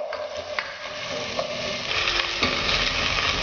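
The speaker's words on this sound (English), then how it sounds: "So I'm dropping the sliced onion here. We need to fry this until dark brown in color." Sliced onion fries in a pan for a Mangalorean methi pulav, giving a steady close sizzle with occasional stirring scrapes and clicks that grows somewhat louder and denser toward the end, with no voices.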